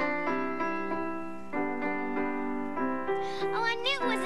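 Mary Had a Little Lamb is played note by note on a sustained, reedy-sounding instrument in a children's music program. The tune is slow and clear, and a voice comes in over the last notes.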